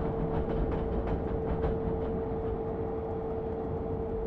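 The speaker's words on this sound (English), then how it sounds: "I love the hum of these electrics." Electric train in Train Simulator 2014, an ICE2 express running through Vienna, giving a steady tonal hum over a low rumbling roll with faint rhythmic clatter, close and continuous with no talk.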